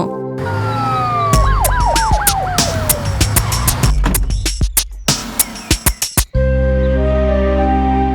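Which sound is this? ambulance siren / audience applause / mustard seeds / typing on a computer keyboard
ambulance siren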